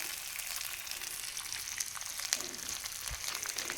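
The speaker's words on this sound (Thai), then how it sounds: "ผัดพริกแกงให้เหลืองก่อนใบมะกรูด" Curry paste is stir-fried in hot oil and sizzles steadily and close by, with light scraping and stirring noises throughout.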